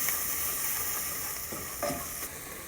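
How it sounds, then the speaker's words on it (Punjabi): Masala spices with black pepper roasting in a pan for a carrot-pea curry, a steady close sizzle with light stirring scrapes and no talk. "ਹੁਣ ਇਹਨੂੰ ਆਪਾਂ 2 ਮਿੰਟ ਸੇਕ ਲਵਾਵਾਂਗੇ ਮਸਾਲੇ ਨੂੰ"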